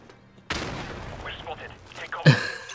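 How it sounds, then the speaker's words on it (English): A grenade explodes in Call of Duty 4: Modern Warfare Remastered, a loud broadband blast starting abruptly and rumbling on amid gunfire-like crackle, with a second sharp burst near the end. "I literally did not mean to throw a fucking grenade there"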